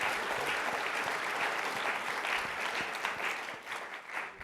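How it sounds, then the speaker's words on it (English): An audience applauds panelists at an anniversary history talk on atomic bombs and the Soviet invasion, a steady, dense clapping that fills the room, loud and continuous, thinning slightly toward the end. "Let's have a round of applause for our panelists, please."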